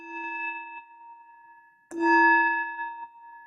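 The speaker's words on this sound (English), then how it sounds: "Your spirit bells" Spirit bells chime twice, a bright metallic ring that fades and then a second louder strike, each with long sustained tones, alone in a quiet room.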